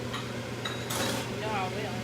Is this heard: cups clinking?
yes